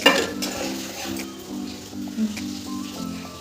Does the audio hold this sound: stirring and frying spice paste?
yes